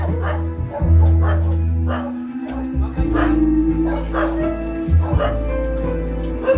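Several dogs barking, yipping and whimpering at a family home, loud and close, with repeated yelps and whines overlapping continuously.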